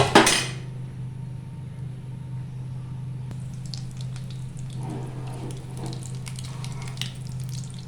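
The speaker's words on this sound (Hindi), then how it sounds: "ये फ्राई हो गए हैं, मैं बाकी भी ऐसे ही फ्राई कर लूँगी।" Egg chicken rolls sizzle and fry in a little oil in a pan, a steady crackling sizzle that runs throughout after a brief clatter at the start, with no talking.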